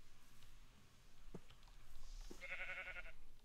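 A single Minecraft sheep bleats once near the end, a short buzzy wavering cry over faint background game noise, with no talk.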